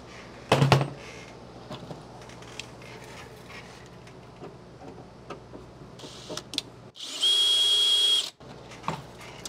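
A power drill bores out rivets on a bus window regulator, a brief loud burst near the start and a steady, close whine for about a second and a half near the end, with faint clicks and handling noise between.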